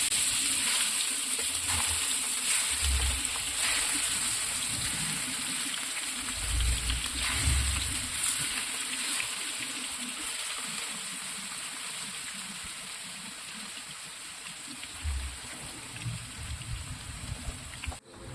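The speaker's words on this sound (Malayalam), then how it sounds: "ഇത് നല്ലോണം ഒന്ന് ഫ്രൈ ആയി വരട്ടെ." Fish marinated with curry leaves frying in a pan on banana leaf gives a steady, moderate sizzle throughout with occasional louder crackles and no talk.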